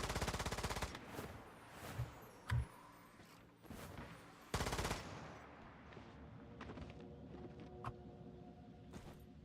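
Dense video game gunfire, rapid automatic bursts and heavy volleys in quick succession, loud and overlapping, with sparser single shots and mechanical clatter afterward.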